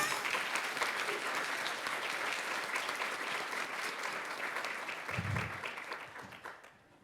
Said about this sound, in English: I just want to give him an applause for that.